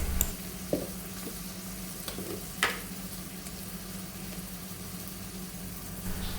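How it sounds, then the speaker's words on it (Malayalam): Tomatoes sautéing in a pan for a Kerala ridge gourd curry, a quiet steady sizzle with a low hum beneath and a few soft clinks and stirring scrapes. "അപ്പോൾ നമ്മുടെ തക്കാളിയൊക്കെ നന്നായിട്ടൊന്ന് വഴന്നു വന്നിട്ടുണ്ട്."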